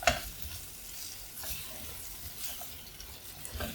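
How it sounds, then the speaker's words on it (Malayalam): Raw banana pieces sautéing in coconut oil while being stirred, giving a soft, steady sizzle with faint scraping strokes throughout, close and fairly quiet. "ഈ കായ ഇങ്ങനെ വെളിച്ചെണ്ണയിലിട്ട് നന്നായിട്ടൊന്ന് ഒരു നാലഞ്ച് മിനിറ്റ് ഒന്ന് വഴറ്റിയെടുക്കണം"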